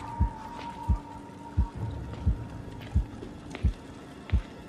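A heartbeat effect in the horror game Medusa's Labyrinth thumps in a slow, regular, deep rhythm, seven heavy low beats spaced evenly over a faint ambient drone and hum.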